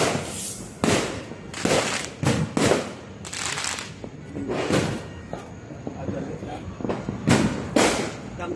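Fireworks and firecrackers explode in a loud, close run of sharp bangs and thuds during New Year celebrations, with bursts coming every second or so and voices faintly around them.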